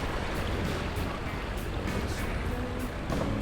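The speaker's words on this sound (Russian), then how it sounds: "Море вот такое. Чуть-чуть шумит, болтает." Sea noise aboard a sailing yacht motor-sailing under a single staysail between Daebyeon port and Muemuldo island off Korea: a steady, fairly loud broadband wash of water and wind with no distinct events throughout.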